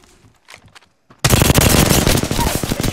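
Loud automatic gunfire in Apex Legends bursts in suddenly after a quiet stretch of faint sound, a rapid close stream of shots that continues to the end.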